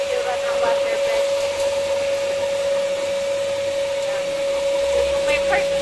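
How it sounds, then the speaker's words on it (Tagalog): A vacuum cleaner drones with a steady high whine and continuous roar while cleaning the interior of a Mitsubishi Pajero 4M40 during detailing, loud and close, with someone talking over it. "Tignan natin yung vacuum. At iba-vacuum natin to."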